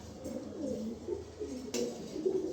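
A pair of light-coloured racer pigeons coo close by in a short run of soft, repeated throaty calls that rise and fall, with a little background hiss.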